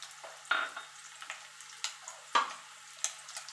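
Potatoes frying in a pan for a vegetarian aloo dum: quiet, intermittent crackles and spits, a few sharper pops, over a faint oily hiss with no voices.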